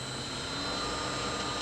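A wood lathe spins a pignut hickory bowl blank at about 1600 rpm, giving a steady whirring hum with faint tonal whine. It is short, continuous and moderately loud, with no talk.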